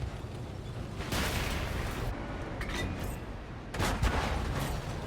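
A tank destroyer in World of Tanks fires high-explosive shells, loud booming blasts with a long rumbling wash, one near one second and another near four seconds, over constant battle noise.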